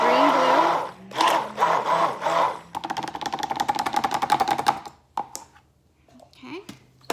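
A stick blender mixing soap whirs in loud bursts and a longer rapid buzzing run, then stops as a voice speaks briefly near the end.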